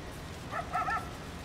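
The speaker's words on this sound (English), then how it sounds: "Oh, I can hear a dog" A dog in Farming Simulator 19 on the Ravenport map gives a few faint, short yipping barks from a distance over a steady, low background hum.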